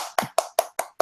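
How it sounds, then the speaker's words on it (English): Five sharp, evenly spaced claps ring out in quick succession, crisp and close, like a single person clapping to welcome a speaker at a small gathering. "Let's give a round of applause to Zeng."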